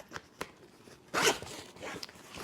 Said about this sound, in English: In addition to like this top has a zipper in it.